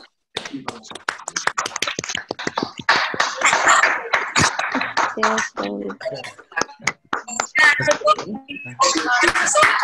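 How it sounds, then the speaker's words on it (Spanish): Scattered applause comes through video call microphones as clipped, uneven claps and taps from several participants, with voices talking over them. "invito a todos a que prendan sus micrófonos y le demos un aplauso a Enzo Castiglione"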